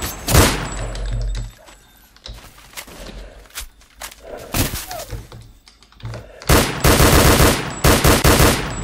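Bursts of gunfire in the game S.T.A.L.K.E.R.: Call of Pripyat with the Misery mod crack repeatedly, single shots and rapid automatic volleys, loud and close, with footsteps and thuds between them.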